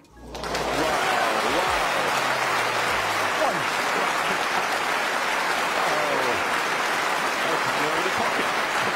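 A snooker crowd bursts into loud, sustained applause for a Judd Trump shot. The clapping swells quickly after a brief thud and stays dense and steady to the end, with a voice talking faintly underneath.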